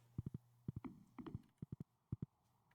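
Horse hooves clip-clop in Stardew Valley, quiet close clusters of two or three crisp knocks at a steady trot, with short pauses between the groups.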